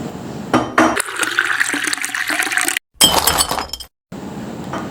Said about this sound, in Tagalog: kaya't natapon sa mesa ang tubig kaysa masalinan ko ang baso